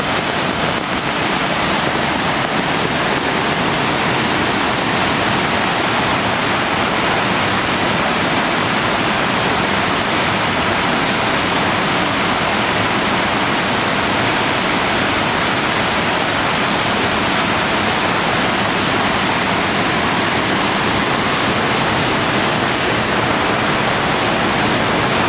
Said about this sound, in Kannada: ಅಬ್ಬಿ ಜಲಪಾತ